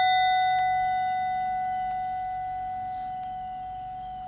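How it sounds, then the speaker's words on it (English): A single struck bell rings out during a family yoga session, its steady tone sustaining and slowly fading away over several seconds with no talking. "listen to the sound of the bell and not open your eyes or look up until you stop hearing the full vibration"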